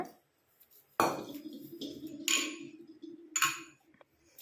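Roasted onion powder is tipped from a pan into another bowl, giving a few scraping clinks of a spoon against metal and bowl in short bursts, quiet and close, with no voices.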